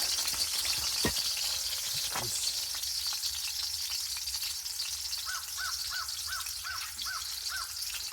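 Oil sizzles and fries steadily in a pan over a campfire during winter camping at Pinery, a constant close crackling hiss with a few thumps early on and a series of crow caws in the background near the end.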